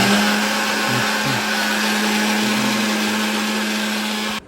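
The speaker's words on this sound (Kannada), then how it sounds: "ಕೊಬ್ಬರಿ ಮಿಕ್ಸಿಗೆ ಹಾಕಬೇಕು." A kitchen mixer grinder whirs loudly grinding coconut, a steady high-pitched motor whine with rattling underneath that stops abruptly at the end.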